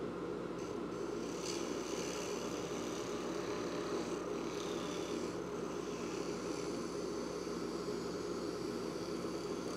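A lathe trims a diamond-painting pen blank round, a steady, even whirring drone with a faint scraping tool edge, unbroken and moderately quiet.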